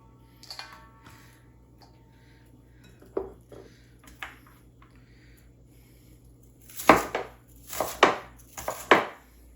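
Vegetables are cut with a knife on a board for a chicken and sausage sheet pan dinner: a few scattered soft taps, then four loud, evenly spaced chops close by.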